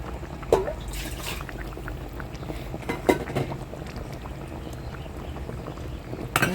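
Coconut milk bubbling briefly in a pan of binagoongang baboy, a steady soft boiling and simmering texture with a few louder pops and clinks, close and continuous with no talk.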